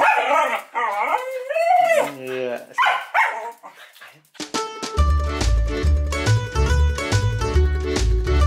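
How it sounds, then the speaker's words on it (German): Several dogs howl and bark on a morning walk, drawn-out rising howls at first, then a run of repeated close barks and yips over loud music-like tones, with a voice joining in. "Ich werde jetzt mit den Hunden eine Runde Gassi gehen."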